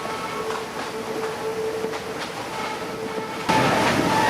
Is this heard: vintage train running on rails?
yes